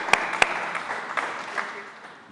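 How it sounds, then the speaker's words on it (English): Audience applause at a leadership talk, moderate crowd clapping with two sharp nearby claps at the start, then a steady patter that gradually thins out. "Give her a round of applause, please."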